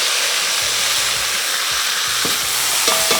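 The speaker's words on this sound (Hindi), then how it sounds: "अब इसकी हम करेंगे थोड़ी सी भुनाई पहले" Marinated meat for Hyderabadi dum biryani sizzles and fries loudly in a pot, a dense steady hiss with intermittent stirring scrapes and clanks, close up and without talk.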